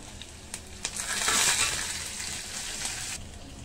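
Curry leaves hit hot oil for a Telugu festival dish, crackling in a few sharp pops before a loud, bright sizzle swells and then settles into a steady fry.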